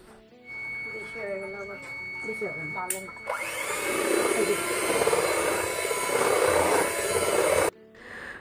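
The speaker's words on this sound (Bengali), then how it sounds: "তো ব্লেন্ড করতে কিন্তু এটা ভালোই সময় লাগে ক্রিমটা" An inexpensive, slow electric blender whips cream for a homemade cream cake, whirring loudly and steadily for several seconds before cutting off abruptly, after a few brief clinks and faint household sounds.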